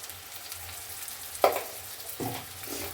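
Chopped tomato goes into onions frying in a pan, a low background sizzle broken by two louder bursts of hissing as the pieces hit the hot oil.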